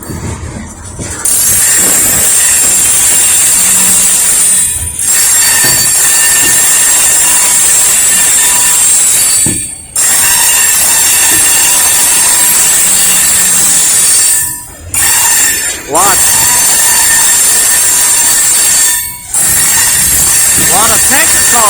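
Norfolk Southern freight cars, many of them tankers, roll steadily past at close range, their wheels letting out sustained high-pitched squeals and screeches over the rumble, with brief lulls between cars and a voice speaking now and then.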